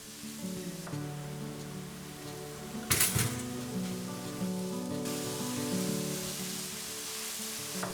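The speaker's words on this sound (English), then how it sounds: "As soon as the oil and butter start sizzling, get your sliced mushrooms in and fry those for a couple of minutes." Sliced mushrooms frying in oil and butter in a wok, giving a steady crackling sizzle throughout with one sharper burst of spatter partway through, close and continuous.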